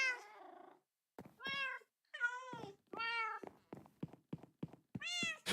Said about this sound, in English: Just a few cats!